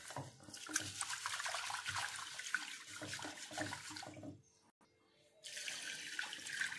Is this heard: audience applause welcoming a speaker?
no